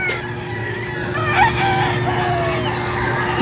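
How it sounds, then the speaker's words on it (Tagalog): Hens and chickens on a poultry farm, including laying hens kept in 3x3 cages, cluck and call repeatedly over a steady background hum, with some crowing mixed in, close and fairly loud. "Ayan, puro inahin na"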